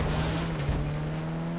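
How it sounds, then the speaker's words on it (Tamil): Steady engine hum of a car driving at speed with a constant whine in the game Indian Bike Driving 3D, with no talking. "நம்ம இப்போ கார் ஓட்டிகிட்டு இருக்கோம்"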